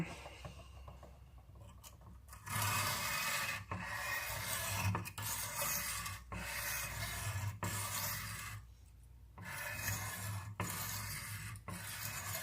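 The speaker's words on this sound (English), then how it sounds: "I already see material coming off of the knife blade" Knife blade drawn back and forth over a medium sharpening stone wet with honing solution, a steady rasping scrape in repeated strokes with brief pauses between passes, close and alone.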